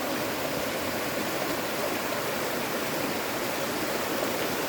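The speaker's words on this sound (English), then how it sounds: "cold running water." Cold whitewater rapids on a river in Olympic National Park, rushing steadily with a dense, continuous broadband roar, close and unbroken, with no voices.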